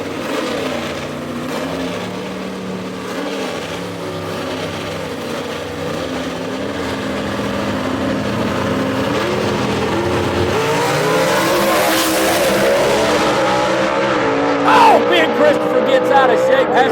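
A 1966 Chevy II gasser drag car and its rival roar off the line at Brainerd Motorsports Park, loud engine noise building steadily under an excited commentator's voice.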